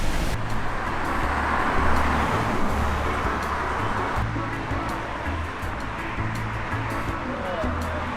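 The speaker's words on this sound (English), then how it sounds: "buddy surfing some waves here at Boca Raton" Steady roar of ocean surf at Boca Raton washing in continuously, broad and close, with no distinct voices over it.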